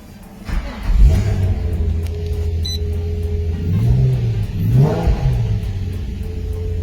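A drift car fitted with a silencer for training days revs its engine, a deep muffled rumble rising and falling in several throttle blips over a steady idle, close and loud with no voices.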